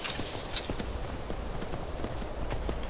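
Horse hooves clip-clop steadily at a walking pace in an Elder Scrolls video game, soft and continuous with no talking.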